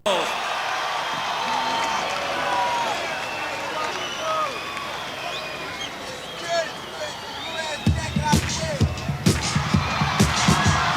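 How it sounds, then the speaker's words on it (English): A large crowd at the 1997 Chicago Bulls championship celebration applauds the Lovables, a steady roar of cheering and chatter that turns into sharper, denser clapping over the last few seconds. "Let's have a nice round of applause"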